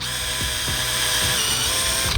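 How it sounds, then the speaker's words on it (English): A sharp 332 drill bores a hole in aluminium during a car tub build, giving a steady, close, loud high-pitched whine that runs unbroken for the whole stretch and stops abruptly at the end. "we're going to do a drill and countersink"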